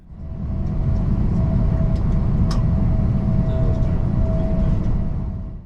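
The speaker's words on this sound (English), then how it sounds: "these trains do still run fast through many of the stations" A steady, loud roar of a London Northwestern Railway passenger train running fast between London and Birmingham, with rail rumble and a faint high whine, heard from on board.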